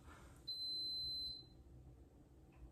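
A rice cooker gives a single steady high-pitched electronic beep lasting about a second over quiet room hum, followed by a faint short chirp.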